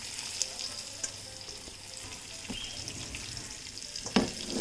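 Chicken pieces for tikka biryani fry in oil in a pan, a steady close sizzle with occasional stirring clatter and a sharper knock near the end.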